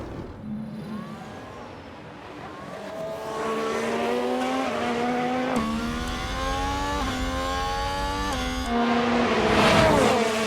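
An F1 car in the F1 Manager 2022 racing game spins out, its engine note rising and falling in pitch as it revs and slides, loud and continuous, with a surge of noise near the end.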